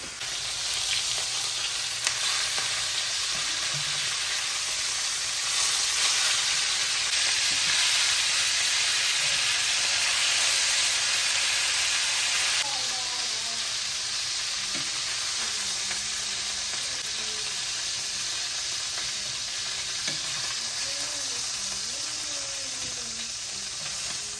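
Chicken browning skin side down in a hot pan for a pina colada chicken dinner, a loud continuous sizzle and hiss that runs the whole time, with a few faint clinks and scrapes later on.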